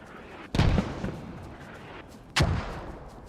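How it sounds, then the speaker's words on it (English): Mortar fire in a multiplayer military video game, two heavy booming impacts about two seconds apart, each a sharp blast trailing into a rumbling decay, fairly close and with no talk. "So the mortar's still mortaring the old position"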